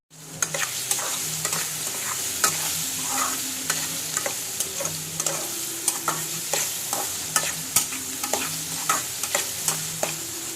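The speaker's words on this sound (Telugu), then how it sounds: "ఇట్లా మంచిగా ఆనియన్ వేగనివ్వండి." Onions fry in a pan for Boiled Royyala iguru, the prawn curry, with a steady sizzle and repeated stirring clatters from a utensil against the pan, close and continuous with no talk.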